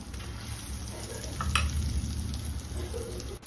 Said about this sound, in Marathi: चम्मचनी अलगद उचलून असा तेलामध्ये तळून घ्यायचं